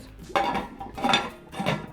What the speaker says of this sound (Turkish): Tenceremizin kapağını kapatıyoruz